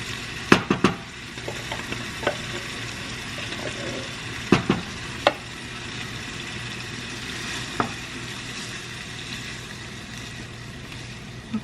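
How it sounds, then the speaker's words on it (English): Hunt's traditional tomato sauce is stirred into cooked meat for baked ziti and left to simmer, a soft steady sizzle interrupted by a few sharp clicks of a utensil against the pan. "Okay, and then we're just gonna let it simmer"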